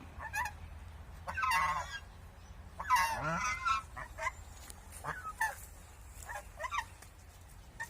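Several small geese honk in a bunch of harsh, nasal calls, fairly close, with quieter honks scattered after and a low steady hum underneath.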